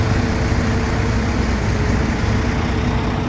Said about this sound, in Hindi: यह जी निसान डीजल, अच्छी साउंड है, साफ सुथरा इंजन है